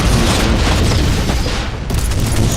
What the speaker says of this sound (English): The range of the exploding container is actually quite big